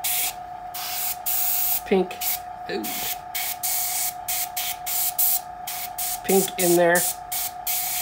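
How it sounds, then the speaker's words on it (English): Short bursts of hissing spray of diluted paint come repeatedly from a spray bottle onto a 1/32 scale Spitfire model, broken by pauses, with a person speaking briefly between the sprays. "I'm just gonna just sporadically spray"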